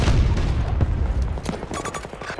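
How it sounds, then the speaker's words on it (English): Gunfire in the shooter game Battlefield 2042 during a 128-player Rush match: dense, continuous shots and booming blasts fill the clip, with a busier crackle of sharp reports toward the end. "Enemy fire."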